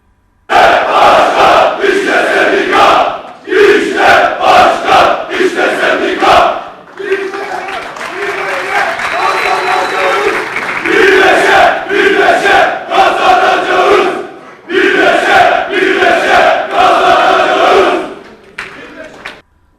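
Rubber workers' union members at a general congress chant rhythmic slogans in unison, loud bursts of massed voices separated by short pauses, with a stretch of applause and cheering in the middle of the hall.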